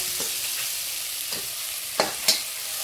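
Kurdai crumbs are stirred into sizzling onion, tomato and green chilli. A constant frying hiss runs throughout, broken by a few sharp spoon scrapes and taps near the end.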